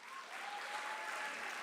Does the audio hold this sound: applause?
yes